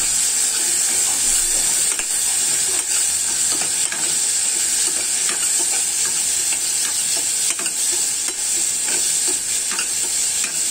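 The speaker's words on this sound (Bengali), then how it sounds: "এটা এখন কষিয়ে নিব" Turmeric and vegetables for vegetable noodles sautéing in a hot pan, giving a loud, continuous hissing sizzle with faint stirring scrapes throughout, no talking.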